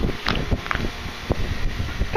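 Gusty wind buffets the microphone in uneven bursts, with rustling and low rumbling thumps coming and going over a few seconds.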